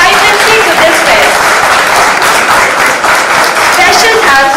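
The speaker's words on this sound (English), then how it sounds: "Huge round of applause for all the participants" An audience at a college festival applauds the participants, with loud, continuous clapping from many hands and voices mixed in underneath.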